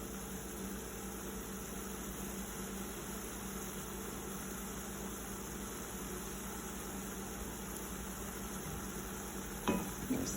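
Vegetables and liquid cook down in a pan for a vegetarian stuffed pumpkin, making a steady, even hiss that continues without a break and ends with a brief clatter near the close.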